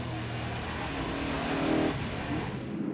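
A V8 Ute race car at Winton Motor Raceway roars at high revs from onboard, a dense, steady engine drone that swells briefly as it accelerates, loud and close throughout.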